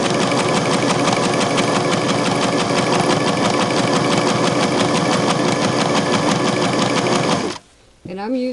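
A Singer 6212C sewing machine runs a narrow zigzag stitch along frayed t-shirt fabric, a loud, steady rapid whir for about seven and a half seconds that stops abruptly near the end.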